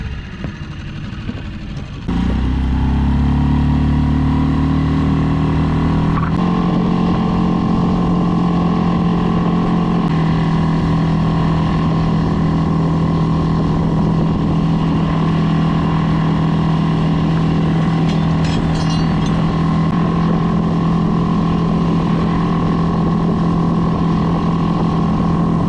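Dinghy outboard motor running at speed while dragging an anchor across coarse sand and pea gravel, a loud, steady engine drone that rises sharply after a brief quiet start and holds constant close by, with no talking.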